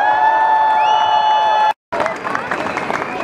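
Crowd at a large demonstration in Salzburg applauds and cheers, a steady roar of clapping and voices with a whistle-like tone, cut by a brief dropout before the noisy cheering resumes.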